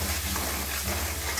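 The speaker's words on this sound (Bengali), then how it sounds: "মিক্সির বাটি ধোয়া জলটা দিয়ে মশলাটা খুব ভালো করে কষিয়ে নেব।" Spiced masala paste with salt and turmeric, loosened with water rinsed from the mixer jar, fries steadily in a pan for a luffa curry, a continuous close sizzle and bubbling with no voices.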